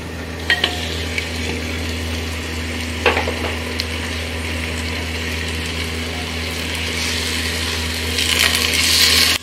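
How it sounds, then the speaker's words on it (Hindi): Mutton pieces fry in a pan with browned onions, giving a steady low sizzle close by, with a few scraping stirs and clinks early on and a brighter burst of sizzling near the end. "अब हमें इसको 2-3 मिनट तक इसको भूनना है।"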